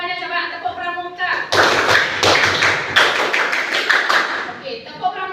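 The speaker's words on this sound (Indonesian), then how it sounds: "Coba tepuk pramuka." A school class does the rhythmic scout clap (tepuk pramuka) together: a patterned burst of group claps and thumps in a set rhythm, framed by a teacher's voice before and after.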